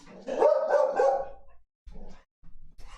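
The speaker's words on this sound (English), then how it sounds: "You woke up Coffee Saga's dog" A dog gives a quick run of loud, nearby barks with a whimpering edge, followed by a couple of fainter yips and some muffled handling noise.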